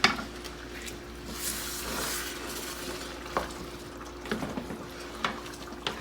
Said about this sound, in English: and we're going to add our stock in here. We're going to start to stir.